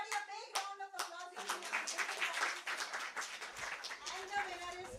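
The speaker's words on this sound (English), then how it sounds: "So everybody a big round of applause." Applause at an ophthalmology conference hall, beginning with a few distinct claps and building into scattered clapping from the audience, with voices talking over it.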